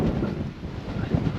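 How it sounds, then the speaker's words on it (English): Strong wind gusts buffet a microphone on an open hilltop, a loud continuous low rumble that swells and eases, with no voices. "Well, see, it's windy."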